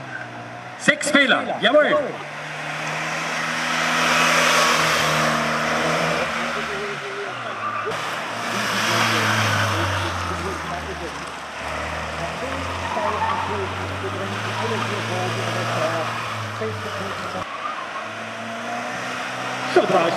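A car climbs toward the finish of a slalom race, its engine droning and shifting pitch across the run while an announcer talks over it, with a loud burst near the start.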